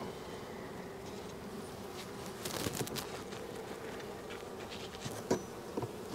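Honey bees buzz steadily around an open hive during a frame swap for honey stores, a dense continuous hum with a few louder passes near the microphone and no talking.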